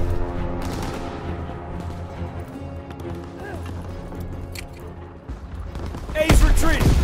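Wartime battle in Call of Duty WWII multiplayer, with bursts of gunfire and explosions over a constant rumbling battlefield bed, swelling into a loud blast near the end; a voice calls out over the din.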